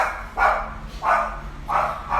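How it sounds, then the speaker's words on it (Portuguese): A small dog barks three times in an evenly spaced, fairly loud sequence, each bark a short bright burst with quiet gaps between, heard alone without talk. "Hoje a participação especial é da Lupita, porque senão ela fica latindo lá"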